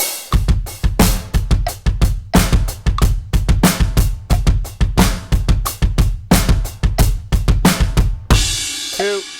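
A funky groove on a drum kit at about 90 bpm, with dotted eighth notes on the kick under crisp snare and hi-hat hits. The pattern repeats steadily, loud and close, with no talking.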